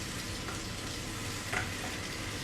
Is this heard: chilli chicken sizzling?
yes